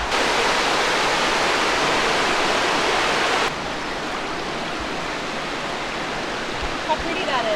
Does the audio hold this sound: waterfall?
yes